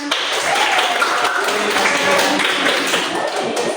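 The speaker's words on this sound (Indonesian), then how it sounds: "Beri tepuk tangan." A group of primary school students applauds in a classroom, with dense, continuous hand clapping that stays fairly even throughout, close and moderately loud, without talk.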